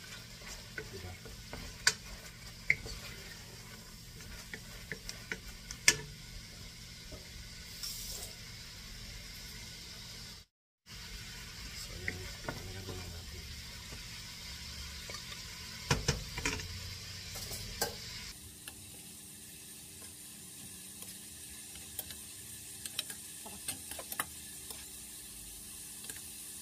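Shrimp sizzle in a frying pan for Alfredo spaghetti while a utensil stirs them, giving a steady crackle broken by scraping ticks and clicks. A brief dropout comes partway through, and the sizzle turns quieter toward the end.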